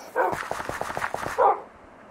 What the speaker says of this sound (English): There's dogs everywhere.